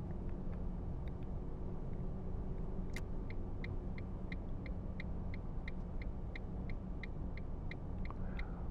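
Taxi car driving through the city in the Taxi Life simulator on PS5, a steady low engine and road rumble with faint regular ticking above it.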